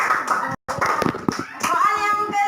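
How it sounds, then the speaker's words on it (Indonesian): Children clap their hands in a classroom during an elementary maths lesson, a short burst of close, ragged clapping with a brief gap, mixed with a voice and room noise. "Tepuk tangan buat Alan."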